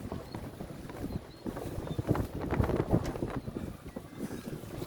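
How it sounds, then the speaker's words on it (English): A strong southeasterly wind of 23 to 32 knots gusts through a marina, buffeting the microphone with rough, uneven rumbling and irregular knocking and clattering, fairly loud and continuous. "It's considerably more breezy today."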